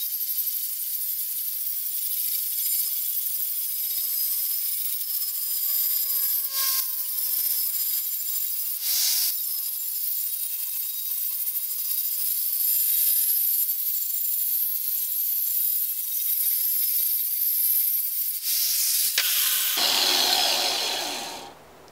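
Angle grinder working a Damascus steel knife blank, a continuous high-pitched grinding whine held for about twenty seconds with slight shifts in tone before cutting off.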